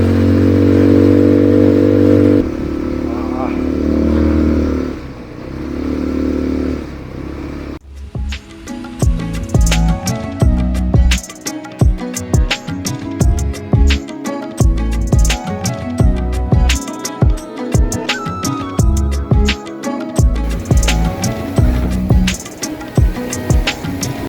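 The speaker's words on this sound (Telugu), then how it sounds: "దీని సౌండ్ చూడండి ఎట్లా వస్తుందో, జుమ్ అనుకుంటూ సూపర్ బైక్స్ వచ్చినట్టు వస్తుంది సౌండ్" A beach-ride vehicle roars loudly nearby like a superbike, its engine revving and rattling in rapid bursts after a few seconds of steadier droning.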